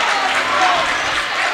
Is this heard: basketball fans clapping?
yes